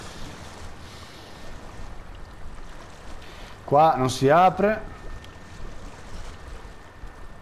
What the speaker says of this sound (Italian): Qua la corrente è troppo forte.